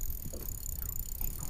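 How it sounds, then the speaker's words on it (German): Electric trolling motor on a small fishing boat out on the water, a steady low hum with wind and water noise, close and fairly quiet throughout. "Das ist der E-Motor."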